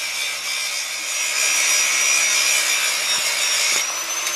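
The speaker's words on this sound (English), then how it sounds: "he's over there grinding all the welds and stuff off of the shackles" A grinder works on welds on steel trailer shackles with a loud, continuous, high-pitched abrasive whine that holds steady without pause.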